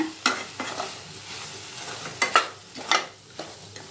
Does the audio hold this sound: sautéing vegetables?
yes